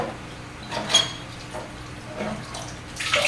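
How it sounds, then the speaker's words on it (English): Aquarium water siphoning out of a tank with the power switched off, giving a steady wet gurgling wash broken by a few clinks and splashes, moderately close and with no talk. "I'm going to let the water continue siphoning out."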